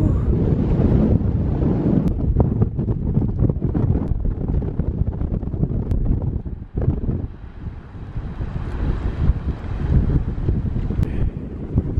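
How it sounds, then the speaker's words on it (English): Strong, steady wind buffets the microphone on a foggy Icelandic clifftop, a loud continuous roar with gusting rumble and a brief lull partway through, with no talking. "It is incredibly windy though."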